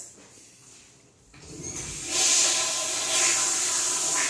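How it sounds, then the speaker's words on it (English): Two toilets being flushed; after a quiet start, a rushing swell of water builds and settles into a loud, sustained hissing flow. "we're going to flush both of the toilets"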